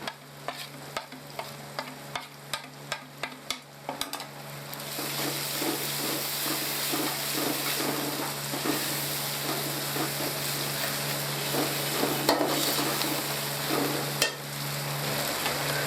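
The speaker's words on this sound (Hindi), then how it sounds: "डालकर अच्छे तरीके से फ्राई करेंगे।" Tinda masala frying with spices in a pan: a few seconds of quick, rhythmic tapping and stirring, then a steady, fairly loud sizzle with occasional scrapes, no speech.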